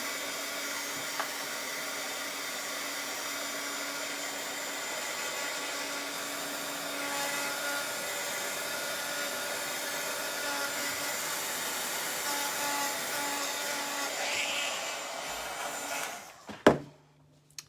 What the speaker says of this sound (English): I am going to hit it with a dryer, her face, just a bit, because I want to make sure we get her put together